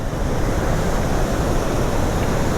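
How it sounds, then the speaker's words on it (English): Water pours over the crest of the Tobacco River Dam near Wixom Lake in a steady, loud broadband roar that continues without a break. "the water coming over the top of the dam"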